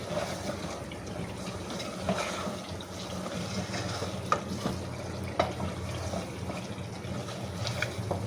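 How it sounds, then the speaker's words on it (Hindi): Mutton curry stirred and fried in a pot, a low continuous sizzle with wet bubbling and occasional scrapes and knocks of a spoon against the pot. "तो हमने इसे भूनना है।"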